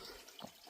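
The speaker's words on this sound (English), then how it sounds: "it's a spring coming out of a pipe, which means it's probably cold and wonderful" Cold spring water runs out of a pipe on a mountainside, a faint, steady splashing trickle heard briefly and alone.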